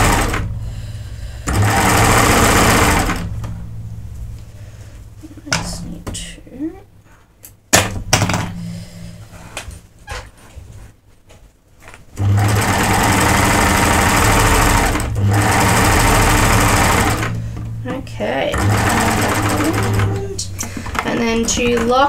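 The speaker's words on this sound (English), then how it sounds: "So this is how quickly cover stitches work." A cover stitch sewing machine stitching a hem, running in two long steady whirring bursts separated by quieter handling sounds, with someone talking at times.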